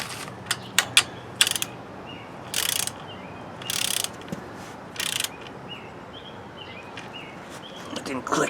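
Quick ratcheting bursts of a hand ratchet snugging down bolts on a seized Kohler Courage engine from a Craftsman LT2000 mower, clicking in short separate runs, close by, with brief metallic taps between.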